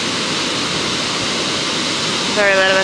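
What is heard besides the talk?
Rainbow Falls waterfall roaring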